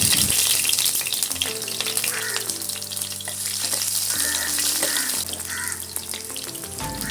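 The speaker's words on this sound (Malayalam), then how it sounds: "എണ്ണ ചൂടായി കഴിഞ്ഞാൽ 2 പച്ചമുളക് കീറിയിടണം." Green chillies fry in hot coconut oil in a pan for a tomato and egg thoran, giving a loud, steady sizzle that runs the whole time over a sustained tonal musical backdrop.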